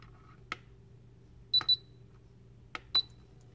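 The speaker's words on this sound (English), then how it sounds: "Those beeps you heard were the timer features." Short electronic beeps from the timer of a 200 ml URPOWER wood-grain aroma essential oil diffuser: about three crisp, close tones in an uneven pattern, some doubled, above a quiet hum and faint clicks.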